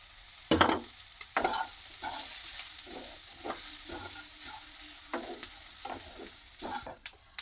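Oats being fried with vegetables in a pan for an oats upma, with a steady close sizzle broken by repeated scraping stirs of a spoon against the pan.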